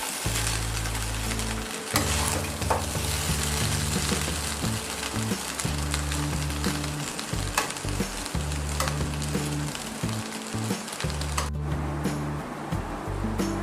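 Vegetable fried rice with coriander leaves and garam masala sizzles steadily in a pan while being stirred and turned, with repeated scraping strokes in an irregular rhythm, close and fairly loud, and no talking.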